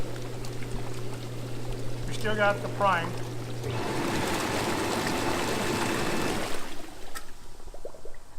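Water churns and rushes from a hot tub jet on a spa with a Balboa pack, starting after a steady pump hum and a brief voice, then running loud and continuous before cutting off near the end.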